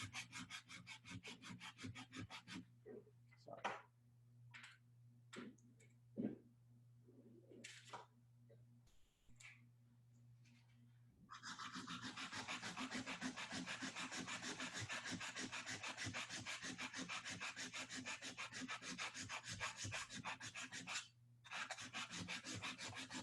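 Hand sanding with 220-grit paper and oil to scrub rust off a metal jewelry-making tool, a rhythmic rasping that starts in short strokes, then turns into loud continuous scrubbing.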